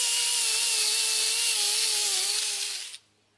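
An abrasive cookie disc on a power tool whirs steadily against metal, smoothing off burrs during work on a 1990s Snapper riding mower, loud and close, then winding down abruptly near the end.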